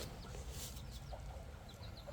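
Young chicks at a new feeder chirp and cluck softly while pecking at feed, short high peeps scattered over a low background rumble, close and fairly quiet.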